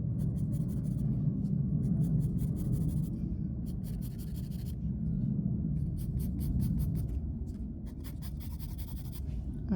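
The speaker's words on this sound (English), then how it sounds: "So let's draw the other stand" A pen or pencil draws stacking tables on paper, giving bursts of quick scratchy strokes close by with short pauses between them, and no talking.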